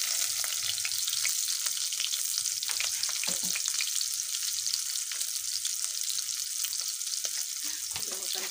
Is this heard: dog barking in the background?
no